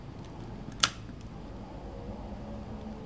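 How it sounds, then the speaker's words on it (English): A 35mm film camera's wind lever is advanced by hand, giving a single quick mechanical click-ratchet near the start, close and crisp, over a faint steady background hum. "you wind the film"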